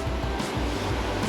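Bridal Veil Falls in Rocky Mountain National Park roars from the top of the falls, a loud, steady broadband rush of falling water with slight surging pulses.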